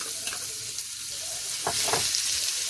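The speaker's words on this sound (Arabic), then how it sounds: "انا هننزل بالثوم بالكزبره بتاعتنا، احلى طشه" Garlic and ground dried coriander hit a spoonful of hot ghee for a tasha topping on Egyptian mallow (khobeiza), giving a loud, continuous close-up sizzle that swells as the spice goes in, with faint stirring scrapes and no talking.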